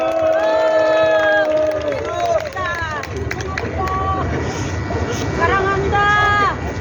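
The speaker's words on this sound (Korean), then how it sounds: "여러분 큰 박수로 맞이해 주시기 바랍니다" Rally crowd on a busy street cheering and applauding to welcome a young speaker, loud continuous roar with shouts and babble throughout, the crowd close and dense.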